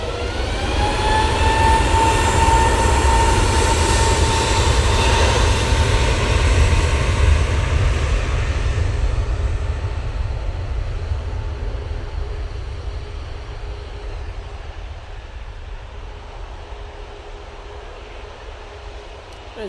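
A TUI airliner takes off down the full length of the runway, a loud broad jet roar with rising engine whine that builds over the first seconds and then gradually fades as the aircraft climbs away.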